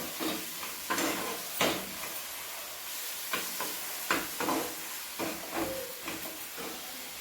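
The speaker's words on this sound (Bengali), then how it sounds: "এখন এগুলো আমি সবগুলা ভালো করে কষিয়ে দিই।" Spices and fried potato pieces stir-fried in a pan for Kashmiri aloo dum, a steady hiss of frying broken by repeated scraping and stirring strokes at irregular intervals, close and moderately loud with no talking.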